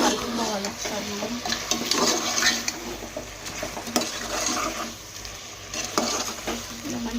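A spoon stirs chicken with garam masala and chicken masala in a hot pan, a continuous sizzling fry with scraping stirs, loud and close.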